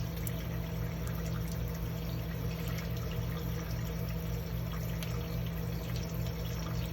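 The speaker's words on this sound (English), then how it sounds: "I hear the bilge pump running." A boat's bilge pump runs, pumping out water with a faint, steady motor hum under a continuous trickle and splash of flowing water, with no talking.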